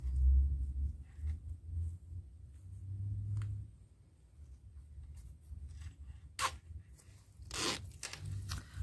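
A zipper slider is pulled along a zipper on a baby's toiletry bag being sewn, giving two short, sharp rasping bursts near the end over a low background rumble.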